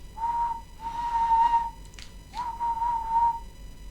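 A steam engine's whistle from a Thomas and Friends story sounds clearly in three tuneful blasts: two close together, then a third after a short pause. It is bright and fairly near, with no voices over it.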